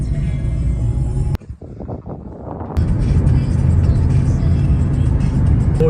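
Car interior road noise from a vehicle carrying a group of men to the souk in Oman, a steady low rumble and whir broken by a brief dip before the driving noise resumes loud and continuous.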